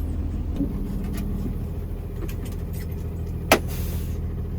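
Interior of a converted school bus driving on the road, a steady low engine drone and road rumble throughout with a brief sharp knock near the end.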